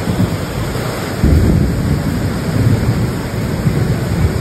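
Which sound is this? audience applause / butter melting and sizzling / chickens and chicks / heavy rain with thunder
heavy rain with thunder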